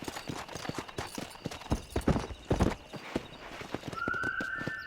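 Horses' hooves clatter in a quick galloping rhythm, with brief snorts and a whinny, ending as a tone rises at the close.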